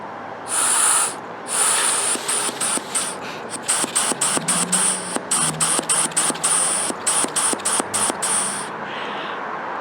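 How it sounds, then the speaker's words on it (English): Air blown by mouth through a car EVAP purge valve, tested from the tank side and then the engine side on a vehicle with a P0496 flow fault: close, breathy hissing bursts, a long puff followed by many short rhythmic puffs. "I use my mouth and blow from the tank side, and then go to the engine side with the valve on my hand"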